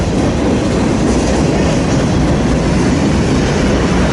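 Freight train heading eastbound on Main 1, a loud, close, steady rumble and roar of rail cars rolling past with faint clickety-clack, no voices.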